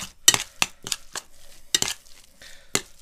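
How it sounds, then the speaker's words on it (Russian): Fish mince is stirred with salt in a bowl, giving a series of sharp, irregular scrapes and clinks of a utensil against the bowl, close and fairly loud, with no voice. "Вот, обратно перемешиваем."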